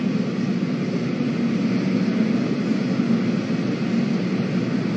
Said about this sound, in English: And there is that entry burn beginning.